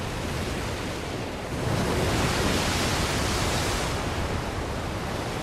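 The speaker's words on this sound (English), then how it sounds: "Saul, all I hear is thrashing waves" Heavy waves thrash against island rocks, a dense steady roar of surf that swells slightly louder after the first second and a half and holds, with no voices.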